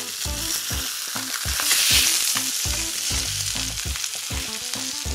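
Trout fillets, skin-on and unfloured, sizzle in a hot pan, a steady loud crackle with clattering pan and utensil knocks over it and no one talking.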